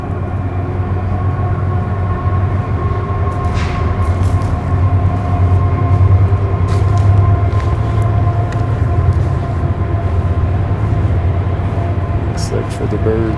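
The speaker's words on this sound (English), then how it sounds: "Here comes that train." A train rumbles past close by in Utah, a loud steady low roar with droning hum and occasional rattles and squeals across its length.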